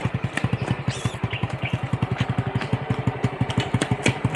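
Motorcycle engine idling close by in a steady, rapid low thump with a faint rattle, running throughout; no talk over it.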